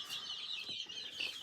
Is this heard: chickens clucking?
yes